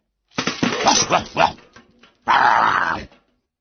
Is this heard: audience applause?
no